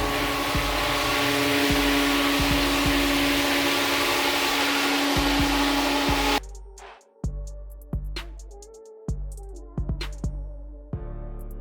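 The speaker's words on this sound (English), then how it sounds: "It's just a regular buffer with some sandpaper on the bottom." A rented floor buffer fitted with 60-grit sandpaper sands a concrete floor, a loud steady whirring drone that runs continuously for about six seconds, then stops and gives way to scattered knocks and clunks.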